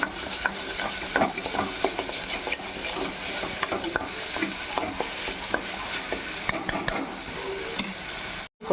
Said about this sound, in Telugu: మంచిగా ఫ్రై చేసుకుందాం.